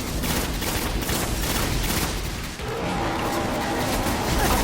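An exotic weapon fired in a video game, a dense continuous burst of rapid loud shots filling the whole stretch with a brief dip midway, no talk.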